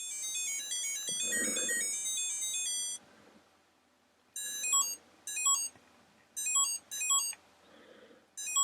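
Electronic button beeps from a tiny handheld LCD game: a bright melodic tone sequence followed by several short, separate bleeps in quick bursts, fairly quiet and close, with no talking.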